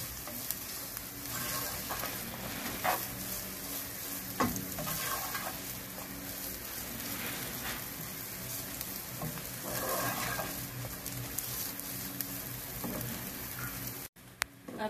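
Food seasoned with black pepper and salt is stirred in a hot pan, with a continuous crackling sizzle and repeated scraping strokes close by, ending abruptly.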